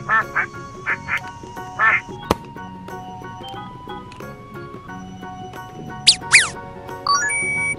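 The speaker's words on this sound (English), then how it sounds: "Duck." A toy farm duck quacks in several short bursts at a steady rhythm, loud and close, followed by a bright jingle and tinkling chimes near the end.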